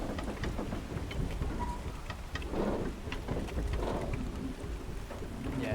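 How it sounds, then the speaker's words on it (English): Steady heavy rain pours through a stormy night in the video game Tails of Iron, with low rumbles of thunder rolling in and out beneath the constant wash. "It's also stormy at night."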